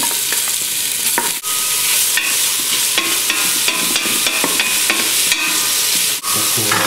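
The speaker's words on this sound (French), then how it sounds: "avec un petit peu d'huile, on va faire revenir les oignons" Two onions sauté in a little oil for a French oyster mushroom soup, crackling in a loud, dense sizzle up close while a utensil stirs and scrapes the pan in repeated strokes.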